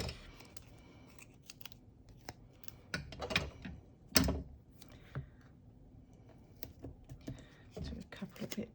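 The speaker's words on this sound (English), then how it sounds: "Let's just use some tape for speed." Tape being pulled and stuck down during card crafting, a scatter of soft ticks, rips and taps with a sharper snap near the middle, close and quiet with no speech.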